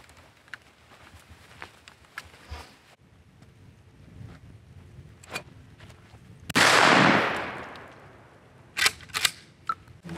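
A Remington pump-action shotgun fired outdoors, one loud close blast with a long rumbling decay, followed by sharp clacks of the pump action, with quiet handling noise beforehand.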